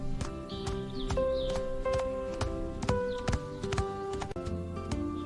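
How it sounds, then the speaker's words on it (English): A horse clip-clopping with steady hoof beats and occasional whinnies, a close, busy farm-animal sound with no talking. "Horse."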